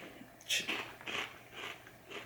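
Close, soft crunching of someone biting and chewing sour cream and onion keto puffs, several crisp bites in an uneven rhythm, fairly quiet, with no talk.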